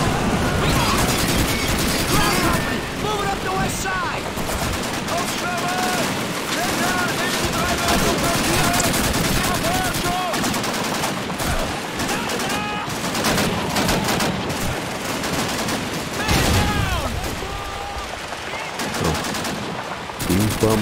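Heavy gunfire in the video game Call of Duty 2 on Xbox Series X, rapid automatic bursts and scattered shots with crashes and booms, continuous and loud throughout.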